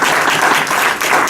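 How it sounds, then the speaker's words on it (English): Audience applause at a university talk on sacred sustainability at Loyola University Chicago, a dense steady wash of many hands clapping for just over a second, loud and even with no voices over it. "I'd like to really actually give a round of applause for that."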